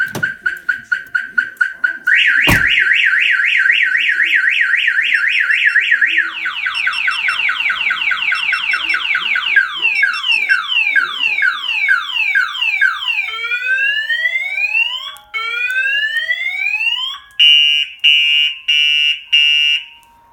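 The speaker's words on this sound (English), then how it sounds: "If the vehicle is hit or any of the doors are pried open, I'll fire off the alarm." A Python basic car alarm on a 2004 Honda Accord blares loudly on its own, cycling through rapid chirps, a steady warble, rising and falling whoops and a final run of pulsed beeps.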